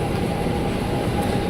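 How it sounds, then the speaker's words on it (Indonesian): An Indonesian KRL commuter train built by Inka pulls away from a station toward the Depok depot, a steady, loud rumble of rolling wheels and traction noise heard nearby with no talking. "ada KRL Inka juga nih yang baru berangkat pulang ke Dipo Depok"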